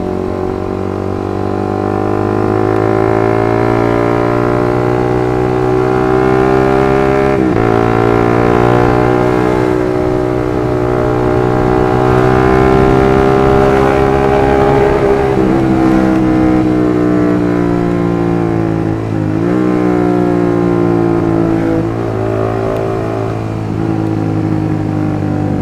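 A Suzuki GSX R150 motorcycle running on Pertalite fuel revs hard at full throttle, its engine note rising and falling through gear changes, loud and continuous for the whole stretch.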